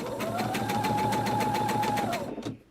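A sewing machine runs a line of long stitches while binding a table runner: a steady, rapid, rhythmic mechanical whir up close that holds even and then winds down at the end.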